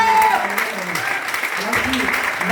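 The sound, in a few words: audience applause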